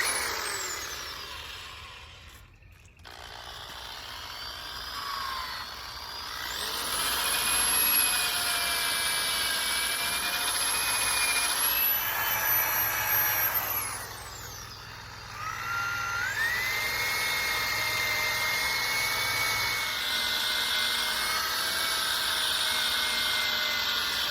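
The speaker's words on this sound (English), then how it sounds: "we're just gonna go ahead and hit it with the eraser wheel" An eraser wheel spins against the body of a 2016 Jeep Freedom Edition, stripping off decals with a high, steady whine that rises and falls in pitch as pressure changes, with brief pauses, close and loud throughout.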